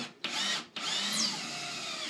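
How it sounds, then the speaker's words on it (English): A power drill drives a screw into a hanging shelf piece, giving a close, loud, steady whine that cuts out briefly twice near the start before running on continuously. "Usually what I'll do is put one screw in."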